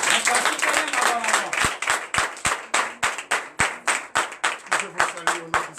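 Church congregation at a Sunday service in Comè, Benin, clapping in a steady rhythmic beat with accompanying acclamation and voices, loud and close throughout.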